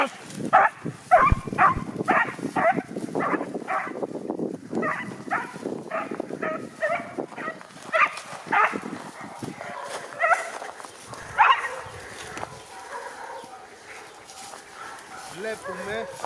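Hunting dogs chase a hare, barking repeatedly in quick, uneven bursts that cluster early and thin out later, with voices heard at times.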